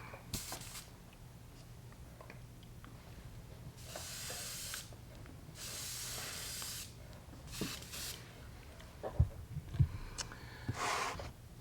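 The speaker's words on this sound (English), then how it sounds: "I'm going to rinse the airbrush out real quick." An airbrush being rinsed out gives repeated hissing spray bursts of a few seconds each, close and fairly loud, separated by quieter pauses, with a couple of sharp clicks near the end.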